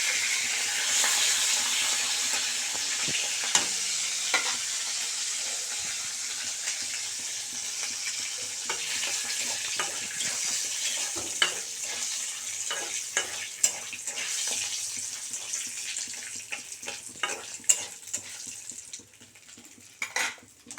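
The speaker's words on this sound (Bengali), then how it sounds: "গোটা গরম মশলা দিয়ে দিলাম এলাচ আর দারচিনি আর তেজপাতা আর শুকনো লঙ্কা ফোড়ন দিয়ে দিলাম" Whole garam masala, cardamom, cinnamon, bay leaf and dried chillies sizzle in hot oil in a pan. A steady loud hiss carries on throughout, broken by occasional clinks of a metal spoon, with no talking.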